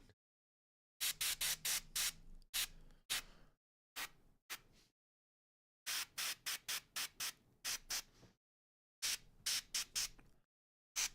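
A spray gun paints a vehicle in clusters of short, sharp hissing bursts, separated by brief silent pauses. The spray is close and crisp, with no talking.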